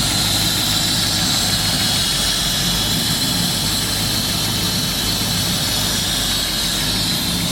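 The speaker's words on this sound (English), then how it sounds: "It's got a little squeal to the belt, or a little noise to the belt." A 1950 Ford street rod engine runs steadily and loudly with a slight squeal from the belt. The dense, continuous roar holds level throughout with no talking.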